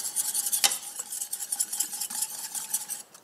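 Mascarpone being stirred into a warm chocolate mixture, a utensil scraping briskly and continuously around a bowl, close and fairly loud.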